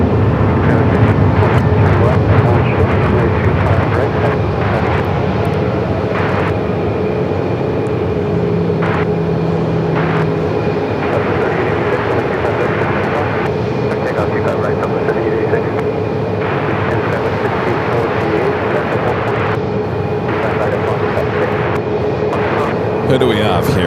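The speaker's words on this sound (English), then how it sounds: "Have another Frontier A320 Neo heading it down for Southside takeoff." A Frontier Airbus A320neo rolls for takeoff at Phoenix Sky Harbor, a broad continuous jet roar holding steady for the whole stretch, fairly loud and distant, with speech and radio chatter on top.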